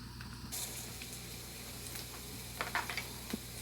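Diced onions hit a pan of hot olive oil, setting off a soft, steady sizzle with a few small crackles and pops near the end.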